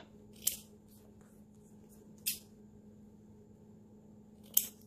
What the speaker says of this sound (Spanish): vuelvo a recortar por encima